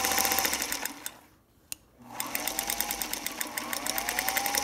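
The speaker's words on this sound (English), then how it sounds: "It's a very quiet machine, very nice motor." A 1933 Singer Featherweight sewing machine stitching with a fast, even needle clatter, pausing briefly in the middle with a single click, then running steadily again, close and clear.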